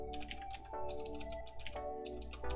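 Rapid clicking keystrokes on a computer keyboard with one slightly faulty key, running steadily beneath loud background music.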